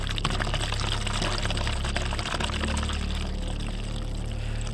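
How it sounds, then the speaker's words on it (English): Water gurgles and rushes up from a bathroom shower drain in a steady, fairly loud wash with no voices over it. "they were both awoken by the sound of the drain in the bathroom making a gurgling sound"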